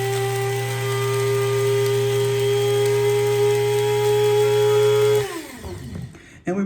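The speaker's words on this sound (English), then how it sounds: "I've taken some leaves and I put them in a coffee grounder, and we'll go ahead and just give this another quick whirl right now" An electric coffee grinder whirls a batch of leaves, a loud steady motor whine running about five seconds before it cuts off and spins down, followed by a couple of faint knocks.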